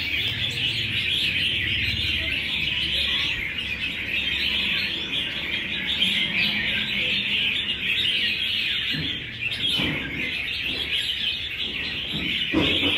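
A chòe songbird calls during a bird fight, sustained bright chirping and rapid warbling trills that run almost unbroken, fairly close and loud, with occasional shuffling sounds.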